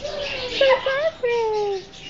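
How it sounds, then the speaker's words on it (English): Birds chirp with a few short, whistled call notes, some rising and falling, heard fairly close. "Those are birds."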